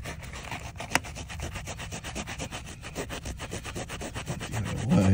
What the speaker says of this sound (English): Got a lot of scrubbing here.